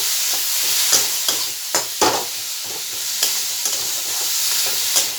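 Cumin powder stirred into pointed gourd greens frying in a pan: a steady sizzle with repeated scraping clicks of the spatula, close and moderately loud, with no voices.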